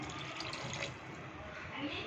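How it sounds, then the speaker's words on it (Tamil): Water poured into Madras-style fish curry with tamarind water in the pan, a steady liquid splash and trickle running continuously for about two seconds at close range. "கொஞ்சம் தண்ணி ஊற்றிக்குவோம்."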